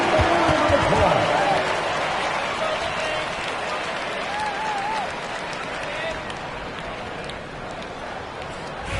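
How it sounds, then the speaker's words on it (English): A basketball crowd at a Warriors at Grizzlies game claps and cheers in a sustained wash of applause, with voices and whistles mixed in, gradually tapering off. "Give yourself a round of applause."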